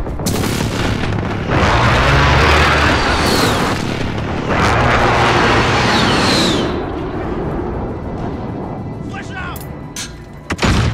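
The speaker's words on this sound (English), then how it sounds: "Enemy precision airstrike inbound." Precision airstrike explosions in the video game Call of Duty Modern Warfare, played in a team deathmatch: two long, loud rumbling blasts with descending whistles, then fading debris noise and a few sharp later cracks.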